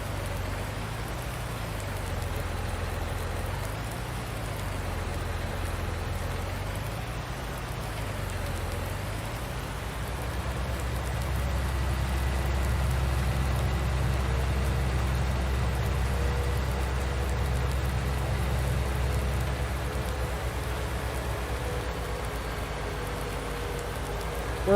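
Rain falls steadily on a farm in Farming Simulator 19, a constant, even hiss of downpour over a low, droning rumble, with no pauses throughout.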